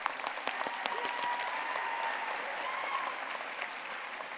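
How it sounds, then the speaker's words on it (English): Steady applause from a commencement ceremony audience at a high school graduation, a dense wash of many hands clapping continuously at moderate distance, with no talk over it. "One more round of applause."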